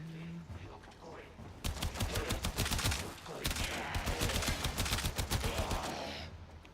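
Rapid bursts of automatic gunfire from a primary weapon in the video game Warframe crackle loudly and continuously for several seconds, broken by a short pause, over a low game soundscape.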